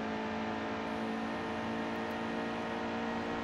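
Racing truck in the NASCAR Heat 2 video game, a 2018 Camping World Truck Series race at Iowa, with a constant loud high-revving engine drone and a steady whine.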